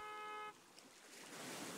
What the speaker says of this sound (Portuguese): Olha a buzinada aí, mano.